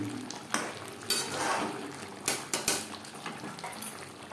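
Chicken biryani being stirred in a cooking pot, a spoon scraping and clinking against the metal in irregular knocks and scrapes, close and fairly quiet, with no talking.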